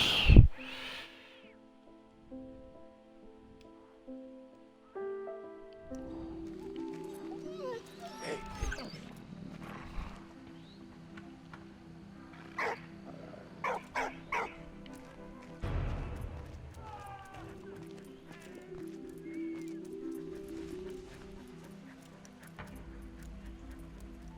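Game dog in the World War One trench game Valiant Hearts barking and whimpering in short, scattered yelps over an orchestral music score, with a brief loud burst at the start and game sound effects throughout.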